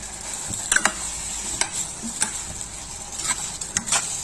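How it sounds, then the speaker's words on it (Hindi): Chicken liver (kaleji) in oil, sautéed and stirred without onion or tomato, giving a soft steady sizzle broken by a few sharp scraping clicks of a spoon against the pan. "थोड़ा सा भूनने के बाद हम इसमें दही ऐड करेंगे।"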